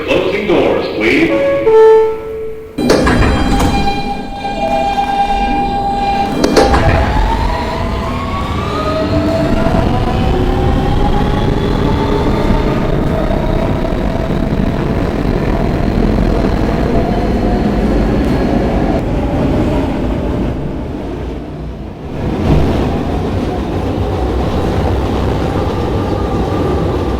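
An R160B Siemens subway car on the W line rumbles loudly and steadily along the track, with rising and falling motor whine, rail clatter and brief squeals, heard from inside the train.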